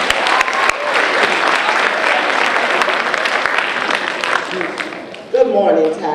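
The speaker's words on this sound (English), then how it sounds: "Let's give her another round of applause." Audience applause fills a high school Black History program, a dense, steady roar of clapping lasting about five seconds, with a voice starting to speak as it fades near the end.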